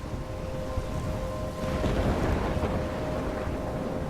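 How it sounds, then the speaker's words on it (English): A thunderstorm in the video game Life is Strange roars as a dense wash of rain and wind with a low rumbling swell of thunder building midway, steady and enveloping with no talk. "I'm trapped in a storm?"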